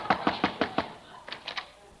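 A door is knocked on: a quick run of five firm raps, then a short pause and three more, close and fairly quiet.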